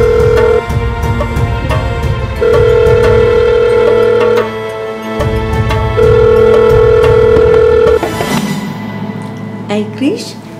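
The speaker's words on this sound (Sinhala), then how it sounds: "රින්ස් යනවාද? රින්ස් යනවා." An outgoing telephone call gives a repeating ringing tone, several long beeps with gaps between them that then stop near the end, while people talk over it.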